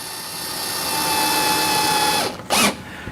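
A power drill drives screws into a rotating shoe rack tower during assembly, a loud steady whine that holds for about two seconds, then stops, followed by a short burst of spinning.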